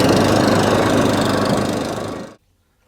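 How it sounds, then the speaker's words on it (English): Allett Kensington 20K cylinder mower with a Kawasaki engine running smoothly, a loud close steady engine drone that holds even for about two seconds, then cuts off abruptly into silence. "That's the Allett Kensington 20K now all up and running with the Kawasaki engine running exactly as it should do."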